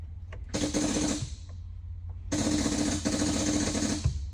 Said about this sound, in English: You guys heard the solenoids firing off over there.